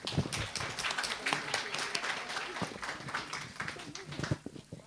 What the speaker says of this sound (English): please give a big applause to our panelists